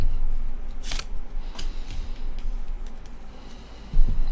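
Tarot cards are drawn from a deck, giving a few short, sharp papery snaps and rustles against a quiet room background, with a slightly louder shuffle near the end.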